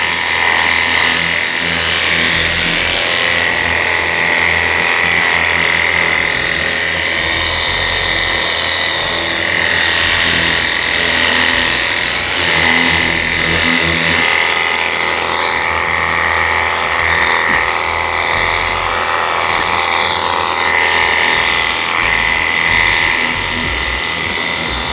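Battery-powered pressure washer spraying water, a steady loud motor whine and hissing spray running continuously throughout with only slight dips, no voices over it.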